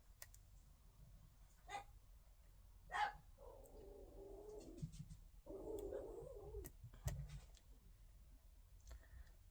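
A small dog barks several times at the arrival of a mail carrier, sharp yaps at moderate distance in a quiet indoor room, with clicks and handling noises between the barks.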